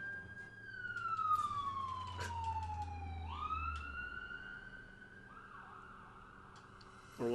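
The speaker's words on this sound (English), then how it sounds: "Or was that an ambulance?" Ambulance siren in the video game Suikoden V, a single wailing tone sweeping down and back up, fairly loud and close with a low rumble beneath, no talking.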